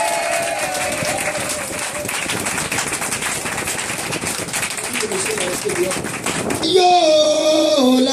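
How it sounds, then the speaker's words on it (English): A church congregation at a Sunday thanksgiving service applauds and cheers in a loud, dense, continuous wash of clapping, with voices mixed in and music rising near the end. "Est-ce qu'on peut acclamer Jésus?"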